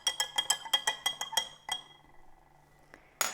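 A spoon clinks rapidly against a glass while stirring a dish soap mixture in a wizard's brew experiment, about a dozen quick bright taps in an uneven rhythm, then a pause and one final louder clink, close and fairly quiet.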